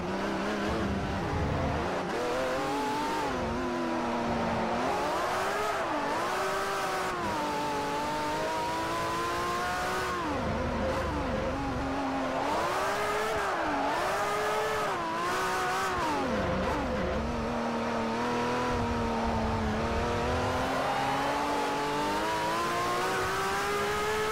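A Ferrari race car engine in Forza Motorsport 4 revs hard and continuously, rising and falling through gear changes with occasional tire squeal, loud and close with no talk.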